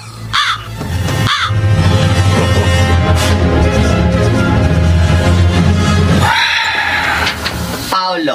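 Crow caws at night, a few harsh calls near the start and again toward the end, set over a loud continuous dramatic background score with low drones.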